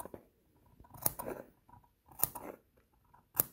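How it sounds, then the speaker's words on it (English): Three crisp, separate snips from scissors clipping into a curved fabric seam of a sewn mask, heard up close in a quiet room, with faint rustling of the fabric between the cuts. "we still want to clip the seam because it's curved"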